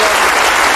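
A live audience at a talk show applauds to welcome a guest, with loud, dense clapping that continues unbroken through the brief moment.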